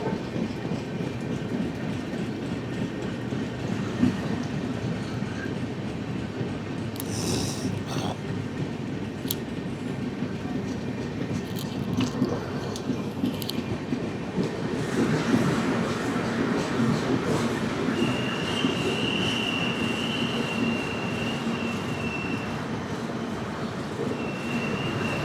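The Gandhidham–Tirunelveli Humsafar Express pulls out of Cheruvathur station, heard from on board as a steady low rumble with rail clatter and a few sharp squeals and clicks that grows a little louder as it gathers pace.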